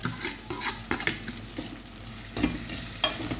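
Jamaican escovitch fish being sautéed and stirred in a pan, with a steady sizzle of frying under repeated scraping strokes of the spoon against the pan, loud and close, no talking.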